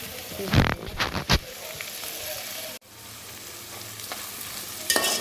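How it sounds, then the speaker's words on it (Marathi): Soybeans tossed and sautéed with vegetables in a pan, close stirring scrapes and clatters up front, then a steady soft sizzle with a few sharper scrapes near the end. "ते पण सोयाबीन घातल्यावर जरा व्यवस्थित परतून घ्यायचं"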